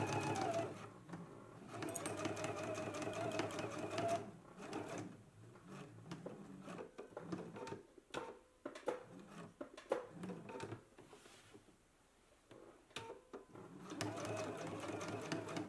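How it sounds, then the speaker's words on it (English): A domestic sewing machine edge stitching and top stitching pockets on a McCall's M8480 garment, running in several steady bursts of rapid needle hum with short pauses and handling clicks between runs. "let's go ahead and do the stitches down for both of our pockets"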